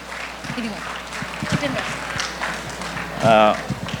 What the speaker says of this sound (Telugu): చప్పట్లు కొట్టొచ్చండి, పర్వాలేదు.